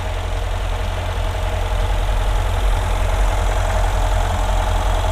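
A Mercedes-Benz S63 AMG 4MATIC coupe of the W222 generation idles steadily with its bonnet open, a constant low engine rumble close by with no talk over it.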